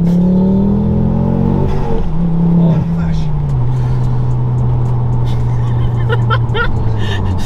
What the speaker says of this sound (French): Le bruit de l'admission